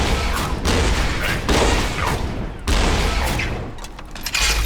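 Plasma caster rockets fire in Borderlands 2, a rapid volley of loud, close blasts with booming impacts in bursts, strongest around the start, middle and two-thirds mark.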